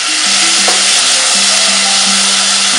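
Grated garlic and onion sizzle steadily in half a glass of hot oil, a loud, continuous frying hiss close up with light stirring, no talk.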